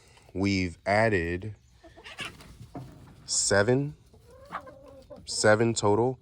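A small backyard flock of six hens and a big rooster clucks and calls at close range, with bursts of fowl vocalizing between stretches of a person talking over them.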